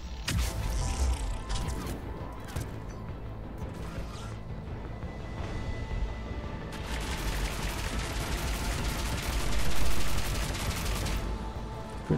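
Gunfire in Mass Effect 3 during a modded Omega DLC fight, with scattered shots early on and a dense burst of rapid firing later, with mechanical clatter and a loud crash near the end.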